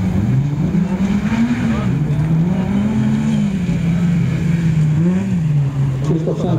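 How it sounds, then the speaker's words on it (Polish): A rally car at the Barbórka rally stage in Bemowo drives off toward the finish, its engine a loud rising and falling drone with revving swells, under ongoing commentary. "Krzysztof Szenk odjeżdża na metę, a w międzyczasie pojawił się mój serdeczny"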